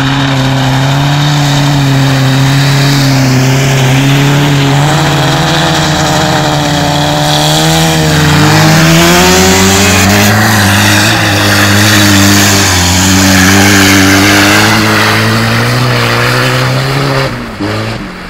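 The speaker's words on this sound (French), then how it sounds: "Le petit char à Sébastien se tire en tabarnak pour vrai. Il va le faire encore, il roule trop vite les gars" Small car racing at high speed, a loud, close engine revving steadily with shifting pitch as it accelerates and changes gears, continuous for about seventeen seconds before easing off at the end.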